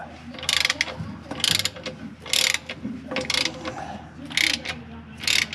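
Ratchet wrench working a stubborn top bolt loose on a 1978 Chevette in a garage, a series of loud bursts of rapid clicking separated by short pauses.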